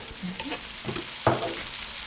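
Faint sizzling of prawns in a pan as spices and ginger go in, with gentle stirring scrapes and a single brief clatter toward the end, close and low in level.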